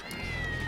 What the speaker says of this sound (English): Hey, there's a cat in here. Black cat.